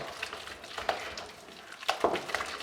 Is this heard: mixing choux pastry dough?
yes